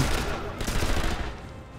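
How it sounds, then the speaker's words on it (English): Machine gun fire in Sniper Elite V2 rattles in a dense continuous burst under voices, a steady stream of rapid shots that fades somewhat toward the end. "That's an MG or something."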